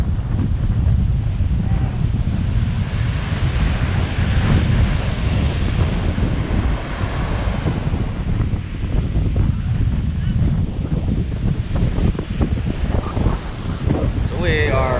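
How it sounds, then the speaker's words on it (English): Ocean surf breaking on an Outer Banks beach near Cape Hatteras, between Rodanthe and Avon: a loud, continuous wash of waves with steady roar, heavy wind buffeting the microphone throughout, no voices. "Listen to those waves."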